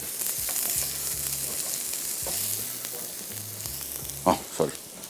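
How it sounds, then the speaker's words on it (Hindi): Onion, garlic and ginger fry in a pan on a kitchen stove, giving a steady close sizzle throughout with a low hum underneath and two sharp knocks of a utensil near the end. "प्याज और लहसुन और अदरक पहले फ्राई हो रहा है थोड़ा सा"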